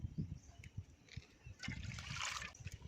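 Water trickles and splashes into a cooking pot for instant noodles in a village, a soft pouring sound at close range with faint background noise.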